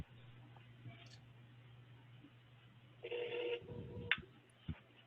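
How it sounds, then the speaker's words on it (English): A phone set to speaker mode calls back a number from the recent calls list during a redevelopment agency meeting, giving a short tone burst and a sharp beep over a low steady hum in a quiet room. "Let me call that number back, and I can bring him in because I'm not using my phone."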